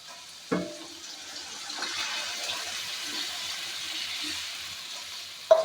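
Water poured into a hot pan of sizzling beef innards, with a sharp splash and burst of hiss at the start, then a steady bubbling sizzle that continues close by.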